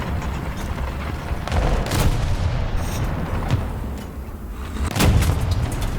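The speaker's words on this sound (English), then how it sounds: "there's something shooting us from behind" Cannon and gunfire in War Thunder striking a US tank from behind, loud booming thuds over a constant rumbling engine drone, with sharp hits near two and five seconds.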